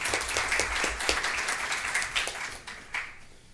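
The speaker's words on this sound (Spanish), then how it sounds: "Le damos la bienvenida, por favor, a Rodrigo con un fuerte aplauso." A conference audience at a Peruvian arbitration institute event claps in a steady, dense round of applause that fades near the end, with no talking over it.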